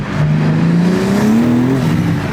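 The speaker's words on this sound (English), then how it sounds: "One of the reasons that I like the intake sound is when you let off, it has like a blow-off sound" A BMW M4 G82 turbocharged engine revving, heard inside the car as a loud steady drone whose pitch rises smoothly for a couple of seconds, then drops off as the throttle is released.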